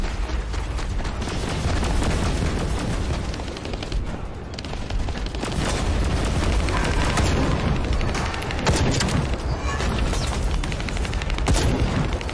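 Dense, continuous gunfire and explosive booms in The First Descendant during a Pyromaniac intercept battle, loud and sustained throughout with rapid overlapping shots.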